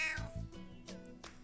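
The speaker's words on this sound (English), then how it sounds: "I seem to have accumulated a lot of cats hanging around my house now" Cats hanging around a house meow, with several short, close cries in quick succession and no one speaking.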